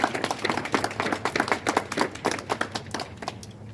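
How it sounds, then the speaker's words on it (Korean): Crowd applause at a political rally in Atlanta, a steady burst of many hands clapping close by and filling the whole stretch, with a few louder claps standing out. "우리 국민들한테 큰 박수를 한번 우리 스스로 줘야 될 것 같습니다."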